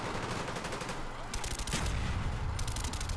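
Rapid gunfire from guns in the video game Call of Duty Black Ops, a dense continuous fusillade of shots with heavier bursts midway, loud and close throughout.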